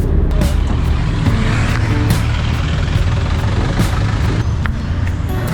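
Steady, loud road rumble and engine drone from inside a moving Philippine jeepney, a continuous vehicle noise with occasional rattles and no clear talking.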